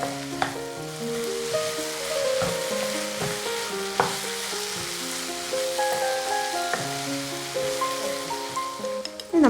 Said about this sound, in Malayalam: മീഡിയം ഫ്ലെയിമിൽ വെച്ച് നമുക്കിതൊരു 5 മിനിറ്റ് ഇങ്ങനെ സോട്ട് ചെയ്യാം